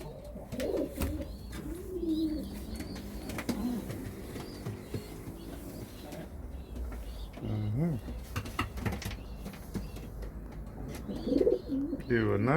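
A racing pigeon coos repeatedly from a nest box, low throaty calls rising and falling up close, with someone talking softly over and between the calls.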